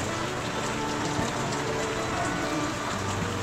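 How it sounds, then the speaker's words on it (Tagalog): Steady rain falling, a dense continuous hiss and patter with no clear pauses, moderately loud and close, without speech. "Mahirap, may ulan naman."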